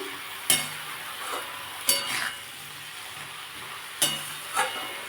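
Salted nate shak greens cooking with fish head get stirred in a frying pan: four sharp spatula scrapes and clinks against the metal, spaced unevenly over a soft steady sizzle.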